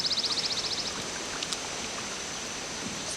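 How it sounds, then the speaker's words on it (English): A garden hose is pushed under pool water, giving a soft, steady wash of water noise with a quick rhythmic pulsing at the start, fairly faint and close. "I'm just going to take the water out of the hose"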